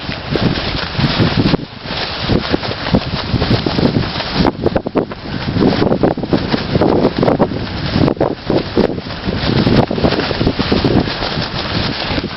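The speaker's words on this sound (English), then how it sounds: "As you probably gather, guys, it's quite windy up there." Strong wind on high ground buffets the microphone in steady, roaring gusts that never let up, with no other sounds standing out.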